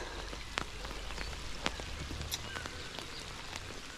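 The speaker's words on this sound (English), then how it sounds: "Here comes the rain." Rain falling on a canal during lure fishing, a dense soft patter with a few sharper drops standing out, steady and fairly quiet throughout, no talking.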